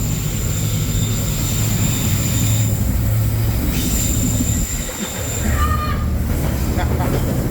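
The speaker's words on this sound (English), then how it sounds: "riding on a diesel train" Steady rumble and rattle of a diesel Coastal Pacific train's wheels running on the track, with occasional high squeal, heard continuously from an open-air carriage on a mountain line; a voice speaks briefly.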